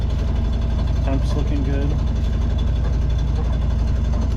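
A sailboat's inboard engine idles steadily at close range, a constant low rumble with an even pulse, while someone speaks briefly over it.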